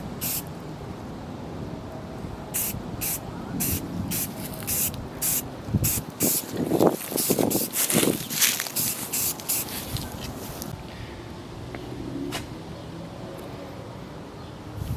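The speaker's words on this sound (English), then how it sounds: "That overspray is getting ridiculous." A spray gun paints the front end of a '27 Track Rat car chassis, with a run of short hissing bursts followed by longer continuous spraying, close and steady, with no talking.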